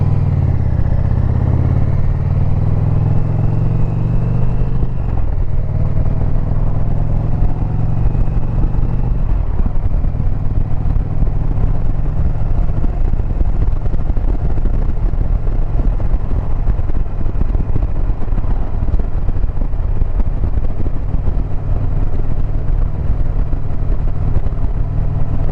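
A motorcycle engine roars loudly and continuously as the throttle is twisted, its pitch shifting early on before settling into a steady, rough drone mixed with road and wind rumble.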